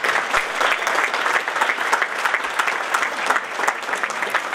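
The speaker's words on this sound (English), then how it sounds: "let's hear a great round of applause" Guests at a lakeside wedding reception give the newlyweds a steady, full round of applause, dense crowd clapping at even loudness throughout with no clear talk.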